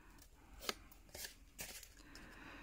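Scissors cut paper for a small cardboard-covered booklet, three or four quiet, crisp snips spaced across a couple of seconds, close and isolated.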